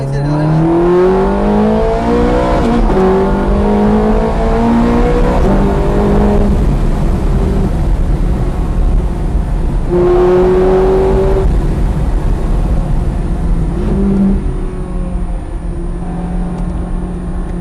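Ferrari F430 Scuderia heard from inside the cabin, its engine note climbing in repeated rising sweeps through the gears, loud and continuous, with a voice talking over it.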